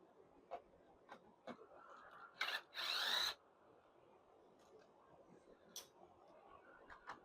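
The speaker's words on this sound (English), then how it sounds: "So we're going to pull these screws out." A power driver backs screws out of a Roomba Clean Base dock in two short, loud whirring bursts about midway, surrounded by faint ticks and handling clicks in a quiet room.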